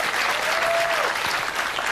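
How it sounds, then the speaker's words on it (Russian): Brief burst of audience applause greeting a comedy sketch, a dense wash of clapping at moderate level that carries on without any talk over it. "Аплодисменты!"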